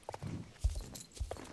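Horse hooves clip-clop in the online horse-riding video game Star Stable Online, a few soft, evenly spaced hoofbeats at low volume with no talk over them.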